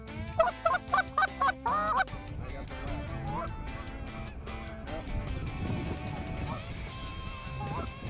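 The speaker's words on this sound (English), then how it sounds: "Wade called in another group of geese." A flock of geese honks as hunters call them in, with a burst of rhythmic, nasal calls at the start and then scattered honks over rustling noise at a moderate distance.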